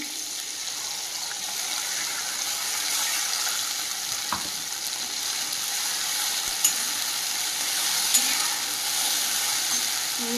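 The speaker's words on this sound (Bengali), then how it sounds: "টমেটোটা ভাজা ভাজা হয়ে গেছে পেস্ট করে রাখা মশলাটা দিয়ে দেবো" A spice paste of cardamom, ginger and dried chili fries with tomatoes in a pan for a vegetarian potato curry, a steady, even sizzle with occasional small pops and stirring scrapes.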